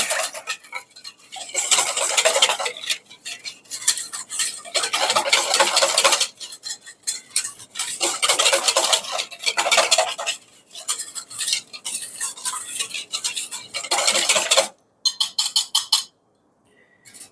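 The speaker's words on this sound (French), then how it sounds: "on remue" A spoon stirs a thyme-flecked filling mixture in a bowl for a goat cheese and walnut tart, clinking rapidly and rhythmically against the sides in long bursts with short pauses, close and loud.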